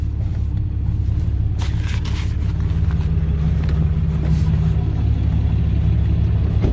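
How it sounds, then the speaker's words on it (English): A big truck rumbles along the road behind a cattle-hauling rig, a loud continuous low engine drone with a brief hiss of wind or air passing partway through. "there's a big truck coming up behind us"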